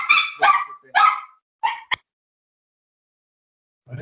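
Small dog barking, four or five sharp yaps in quick succession close by, then silence with a faint low sound at the end.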